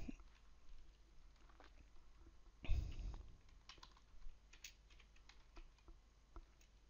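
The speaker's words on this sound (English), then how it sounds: "It's time now to type this command." Quiet computer keyboard typing while entering a command, with scattered light key clicks and one slightly heavier keystroke, close and faint with no talking.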